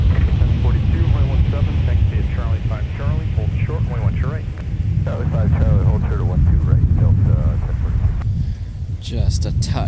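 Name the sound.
Sun Country airliner taxiing at MSP airport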